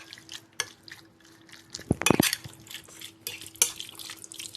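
A spoon scrapes and clinks against a bowl while a wet shawarma marinade is mixed into the meat, with a cluster of sharper knocks near the middle. There is no talking.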